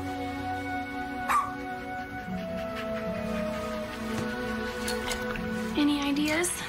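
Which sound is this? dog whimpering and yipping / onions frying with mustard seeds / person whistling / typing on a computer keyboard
dog whimpering and yipping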